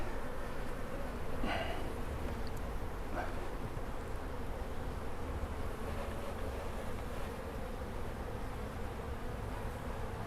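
Bees buzzing steadily around a Warre top bar hive outdoors, a continuous soft drone with a few individual insects passing closer and louder at moments.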